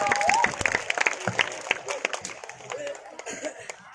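Scattered audience applause at a sholawat gathering and prize-giving ceremony, with lively uneven claps and crowd murmur, while voices talk over it.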